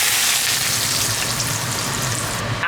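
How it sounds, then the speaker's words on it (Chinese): Hot oil poured over scallions, minced garlic and dried chilies, giving a loud, steady crackling sizzle that holds evenly for a few seconds with no voices. "弄一瓢滚烫的热油，"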